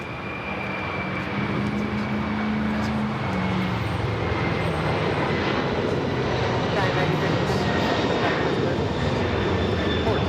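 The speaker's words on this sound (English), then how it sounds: "This is Atlas Air Flight 9013 taking off to Hong Kong" An Atlas Air Boeing 747-400 freighter takes off from LAX, its jet engines a loud, continuous broadband roar that holds steady throughout, with faint voices in the background.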